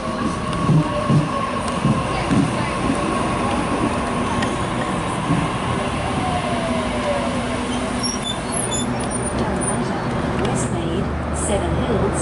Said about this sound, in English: A53 is now departing platform number 2, 1 actually, on a Penrith via Parramatta service.